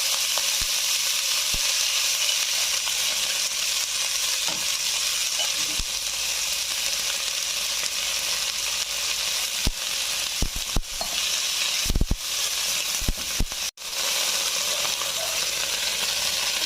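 Whole cumin seeds sizzle steadily in hot oil while cooking Bengali kulekhara greens, a loud, continuous crackling hiss with occasional clinks and stirring scrapes and no talking.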